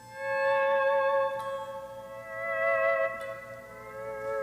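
Pedal steel guitar playing sustained chords, each note swelled and then cut off with the volume pedal, leaving two clear phrases with short gaps between them and no talking.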